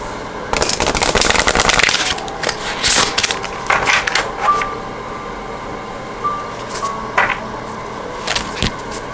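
Tarot cards being shuffled by hand in a series of dense riffling bursts, loudest near the start and then in shorter scattered flurries with pauses between, close and fairly loud with no talking.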